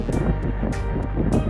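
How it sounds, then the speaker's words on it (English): Loud, rushing wind batters the microphone in gusts over a constant roar, with heavy rain and weather noise close and unbroken, no voices, on the mountain summit of Drum in the Carneddau, Wales. "So pouring with rain and very windy"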